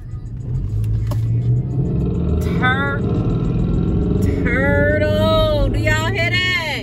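A Ford Mustang at a traffic light, its engine rumbling steadily up close with a few sharp revs rising and falling, under voices talking and reacting.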